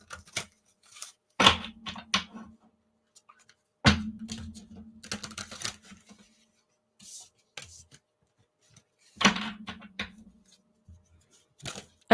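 Tarot cards tapped and shuffled by hand, giving three separate bursts of crisp riffling clicks with soft taps between them, close and fairly quiet in an otherwise still room.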